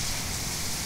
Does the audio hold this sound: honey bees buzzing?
no